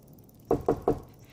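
Three firm, evenly spaced knocks on a door from an animated French-language Wakfu episode, close and distinct against a quiet background.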